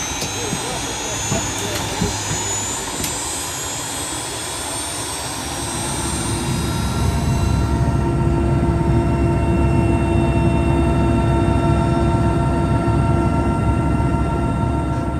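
Steady aircraft engine drone inside a small plane in flight over the Komi Republic toward the Manpupuner plateau, loud and continuous, swelling fuller after a few seconds; a voice speaks over it.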